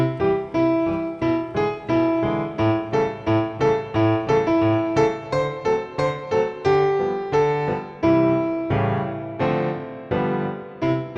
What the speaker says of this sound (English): And then you can play block chords in the turnaround